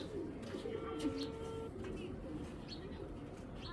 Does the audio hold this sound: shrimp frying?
no